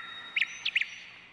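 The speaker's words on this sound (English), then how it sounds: "There was a blackbird in the tree. It sang a happy song." Blackbird singing from a tree: a short burst of three or four bright, clear chirping notes close together, fairly faint over a soft steady background hiss, with no talking.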